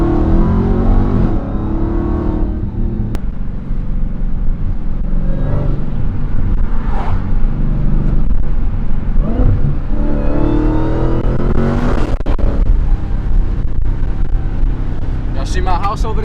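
A Dodge Hellcat with a mid-muffler-delete exhaust rumbles loudly and close, with repeated throttle blips and revs rising over a deep, continuous drone, and voices can be heard at moments.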